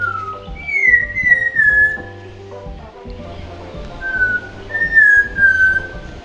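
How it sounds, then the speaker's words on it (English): Clear, melodious whistled phrases of a Malabar whistling thrush, sliding and wavering in pitch, repeated twice over a low rhythmic background drone. "This is a Malabar whistling thrush, or as it's also called, the whistling schoolboy."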